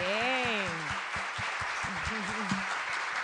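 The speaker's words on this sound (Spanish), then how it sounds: "Vamos a recibir con un fuerte aplauso al doctor Franklin Rodríguez Pantaleón" Audience applause welcoming Dr. Franklin Rodríguez Pantaleón, a health-field guest at a talk on hypertension: a steady wash of clapping runs throughout while a voice speaks over it.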